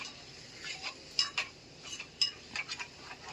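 A spoon clinks and scrapes against a pot while stirring head curry with freshly added coriander leaves, making scattered sharp metallic taps and short scrapes in an irregular rhythm, close and fairly quiet.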